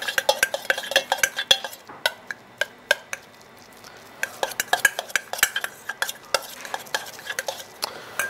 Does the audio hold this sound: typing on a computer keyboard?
no